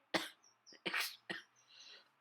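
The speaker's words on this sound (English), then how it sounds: "Coughing. Completely normal." A few short, raspy coughs from one person, close and fairly loud, separated by brief pauses.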